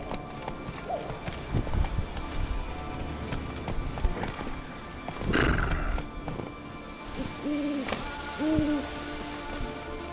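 A horse gallops in The Witcher 3 video game with continuous clip-clop hoofbeats over a rainy ambience. It whinnies faintly partway through.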